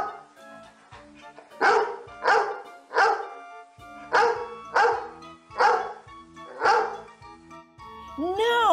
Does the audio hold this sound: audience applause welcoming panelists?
no